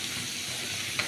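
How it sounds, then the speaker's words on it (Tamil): Onions and green chillies sautéing in a pan for paneer butter masala, giving a brief, steady frying sizzle with a faint stir at the end. "வெங்காயமும் பச்சை மிளகாயும் நம்ம வதக்கணும்"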